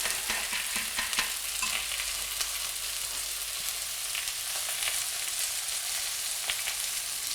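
Leek fondue curry stirred in a pan as milk goes in, a steady close sizzle and scraping under continuous frying noise, with a few sharper utensil clicks early on.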